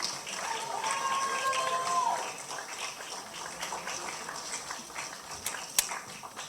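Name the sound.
audience applause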